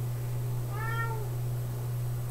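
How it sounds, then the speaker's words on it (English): A small cat gives a single short meow, faint and alone over a steady low electrical hum. "And a little cat's meow."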